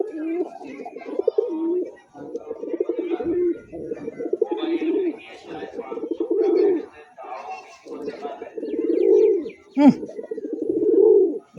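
Tiger-coloured Giribaz racing pigeon cooing repeatedly, close and loud, in rhythmic bursts of low throaty coos with brief pauses, some faint chirps and a voice in the background.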